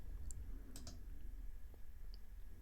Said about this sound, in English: I'm going to go ahead and click Save on this